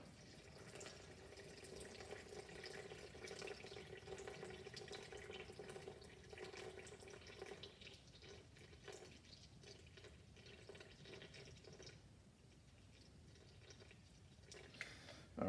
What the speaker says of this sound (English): And then I'm going to put in 200 grams of water.